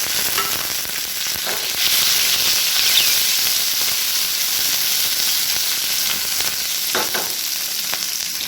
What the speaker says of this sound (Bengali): তেল গরম হয়ে গেছে, দিয়ে দিচ্ছি 1/2 চামচের মতো মৌরি। দিয়ে দিচ্ছি পেঁয়াজটা কেটে রেখেছিলাম।